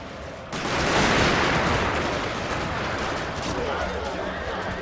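Massed musket volleys and cannon fire boom in a Total War: Shogun 2 battle, a dense continuous roar of overlapping shots that starts abruptly and holds loud throughout, with no talk.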